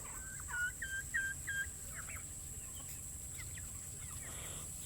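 Guinea fowl hybrid calling outdoors among free-ranging rare chicken breeds, a quick run of four rhythmic squawking notes followed by a couple of fainter calls over a steady background hum.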